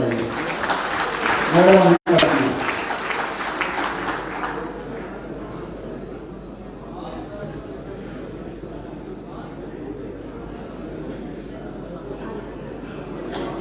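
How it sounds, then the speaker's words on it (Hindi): Audience applause welcoming guests at the closing session of an international environment summit in Dubai, a dense wash of clapping that swells briefly and then settles into steadier, softer applause, with a voice speaking over the start. "आपकी जोरदार तालियों से इनका स्वागत होना चाहिए।"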